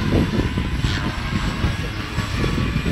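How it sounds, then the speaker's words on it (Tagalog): A motor-driven water pump runs with a steady, loud mechanical drone and a low rumbling hum that does not change through the whole stretch. "Pump, water pump."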